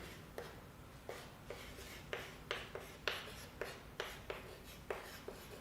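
Marker or chalk writing on a classroom board during a physics lesson, a steady series of short scraping strokes repeating about every half second, close and clear with no talk over it.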